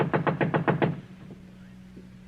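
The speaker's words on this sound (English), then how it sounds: "Knock again." Six quick, evenly spaced knocks rap on a door in a radio drama scene, loud and close, then stop and leave a quiet room hum.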